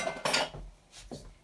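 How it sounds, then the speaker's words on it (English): A knife working around the inside of an orange in a New Mexico garden, a few soft scraping, clinking strokes with short gaps between them, close and quiet. "I'm going to just cut around a little bit all the way around, make some room on the inside of that orange"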